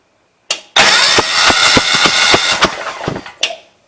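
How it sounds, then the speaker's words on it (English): A Cub Cadet 3050 lawn tractor engine cranks with a rapid, uneven chugging that churns for about three seconds, loud and close, after a short initial burst, then cuts off without starting. "Watch me turn the engine."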